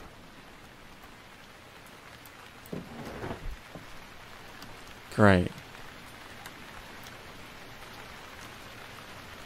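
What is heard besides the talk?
rain falling in Stranded Deep video game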